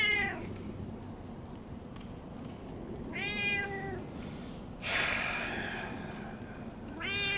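A real house cat meows repeatedly, about four separate rising-and-falling calls spread over several seconds, fairly close against quiet game background sound, with no talking.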